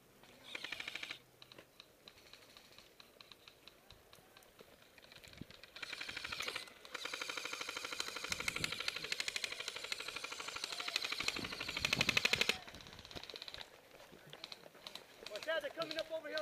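Gunfire crackles in a trench warfare video game, with rapid automatic bursts and scattered shots that come in waves and grow denser midway, heard beneath players talking.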